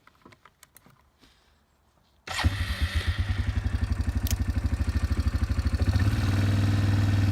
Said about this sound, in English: So we're going to hop back on the four-wheeler here,